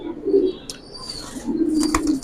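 Pigeons of Jabra, Pankhi and Giribaz breeds coo in low, throaty bursts, one near call early and a longer run later, with faint chirps and light rustling around them.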